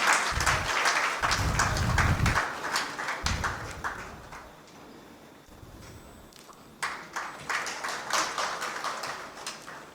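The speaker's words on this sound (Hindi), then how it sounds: "जोरदार तालियां बजती रहे।" Applause from an audience at a national seminar in Bihar, sustained clapping at fair distance that thins out midway and then swells again, with a few low thumps underneath.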